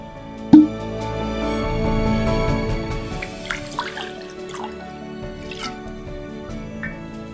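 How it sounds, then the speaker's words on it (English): Don Julio 1942 tequila poured into a glass for an Old Fashioned, a short splash and steady liquid trickle up close, followed by a few soft drips and clinks in a quiet room. "Next, we're gonna pour in 2 full ounces of the Don Julio 1942 tequila."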